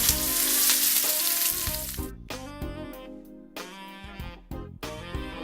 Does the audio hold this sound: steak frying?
yes